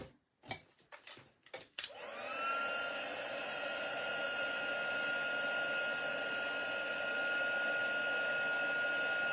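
A heat tool roars to life after a few clicks and handling knocks, settling into a loud, steady whirring hiss as it melts embossing powder, running continuously without talk.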